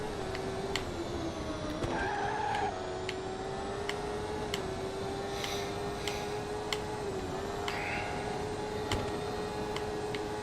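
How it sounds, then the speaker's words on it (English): A race car engine in the racing game RaceCraft drones steadily at a constant pitch, rising briefly as it shifts, with faint regular ticking clicks. "I hear a car coming up behind me."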